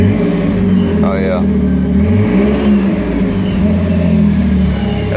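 Supercharged car engine with Ripp supercharger revs under throttle, with a rising whine and steady loud drone heard from inside the car, and a brief spoken remark over it.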